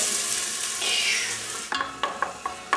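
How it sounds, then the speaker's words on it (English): Onions and garlic frying in olive oil in a pan for risotto: a steady close sizzle, then several sharp scraping clacks of stirring in the last second or so, with no talking. "olive oil, and then you're gonna throw in the onions and the garlic"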